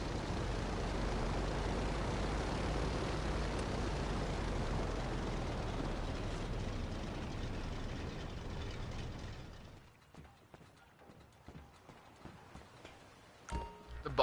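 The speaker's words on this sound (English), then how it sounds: "I pulled out the Tula, so it's like a little bit trickier to fly this thing." A Tula propeller plane in GTA Online drones with a steady, broad engine roar for about ten seconds, then cuts to near quiet with a few faint clicks.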